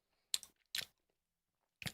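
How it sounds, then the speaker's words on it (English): Someone chews sweet chewing gum close to the mic, giving three brief, faint, moist crunchy chomps separated by silence. "Definitely just chewing gum, not bubble gum."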